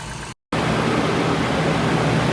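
Toyota truck engine idling with its stock fan clutch, a steady broadband whoosh and low hum that holds loud and constant after a short silent break near the start.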